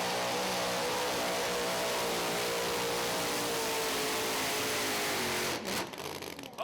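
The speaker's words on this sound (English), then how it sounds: "it sounded like the engine just quit right there at the very end" A Super Mule race car with a 38 Chevy body roars at steady high revs with broadband engine noise, then cuts out abruptly near the end as the engine quits, leaving a ragged, fading tail.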